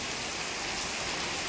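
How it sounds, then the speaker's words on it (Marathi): Heavy rain pours down suddenly at Panchgani, a dense, continuous hiss of drops hitting surfaces, steady and loud with no pauses. "अचानक हा पाऊस आलेला आहे आणि इतका जोराचा पाऊस आहे ना."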